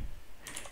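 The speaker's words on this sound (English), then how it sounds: "I think I'll just type in Gemini" Brief burst of keystrokes on a computer keyboard, a quick cluster of light clicks close to the mic, fairly quiet and heard alone without speech.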